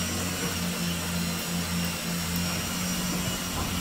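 A caravan mover motor drives the jockey wheel rollers with a steady, close electric whine and hum that holds constant throughout, with no pauses.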